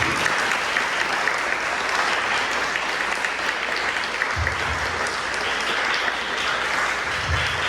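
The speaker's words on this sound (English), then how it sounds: "Let's give a round of applause for Susan." Steady applause from an audience welcoming speaker Susan, many hands clapping continuously at a fairly loud, even level with a few thumps underneath.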